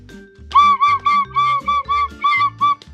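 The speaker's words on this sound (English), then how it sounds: "every single person who goes to primary school in Ireland will get one of these. It's a tin whistle." Tin whistle played as a short tune of about nine clear, separate, bright notes, close and loud with a faint low hum underneath and no talking.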